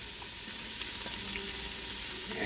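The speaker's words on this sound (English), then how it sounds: "I'm going to start the sautéing." Onions, celery and carrots sautéing in a pot for clam chowder give a dense, steady sizzle throughout, close and fairly loud, with faint occasional stirring clicks and no voices.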